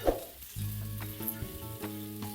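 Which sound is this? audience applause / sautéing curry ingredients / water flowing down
sautéing curry ingredients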